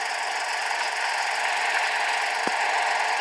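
A tractor engine idles in the farming video game Farming Simulator 14, a steady, even mid-pitched drone with a constant vibration, running alone throughout with one brief low thump partway through.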